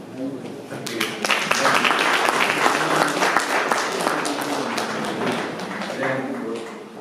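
An audience at a Korean cultural festival lecture gives a sustained round of applause, a broad wash of clapping that swells and holds steady for several seconds, with some murmuring voices mixed in.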